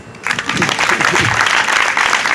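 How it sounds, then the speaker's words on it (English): Loud, dense applause from a party crowd at a Kenyan community gathering in the St. Louis region, starting after a brief quiet moment and holding steady, with voices mixed in underneath. "Can I get a round of applause?"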